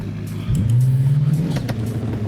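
A car engine in the BeamNG driving game revs sharply once, holds a steady mid-pitched whine for about a second, then drops away, alone without talk.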